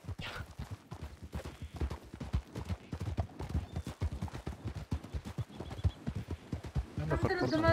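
Rapid, steady clip-clop of a horse's hooves galloping in a roleplay video game, continuous throughout, with a voice talking over it.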